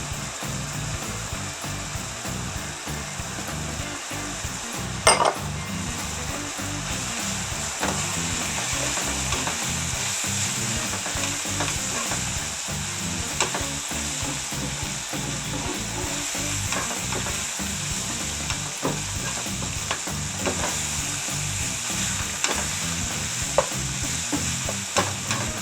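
Browned ground beef with flour stirred in sizzles steadily in a pan for creamed beef hamburger gravy, a continuous close frying hiss broken by repeated scraping stir strokes, no talking.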